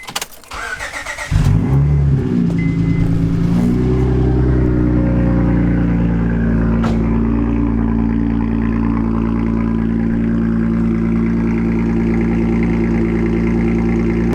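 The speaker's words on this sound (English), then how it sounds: "You ready for a cold start?" A car engine cranks briefly, catches and roars up loud, then settles into a steady, heavy idle rumble close by.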